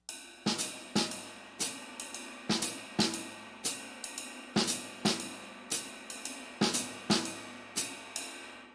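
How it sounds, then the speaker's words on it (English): Jazz drum kit keeping time on ride cymbal and hi-hat with snare hits on the offbeats, a steady swung pattern of sharp, close, fairly loud strokes repeating evenly without any talking. "I'm going to be adding the snare on the offbeats of 1 and 2."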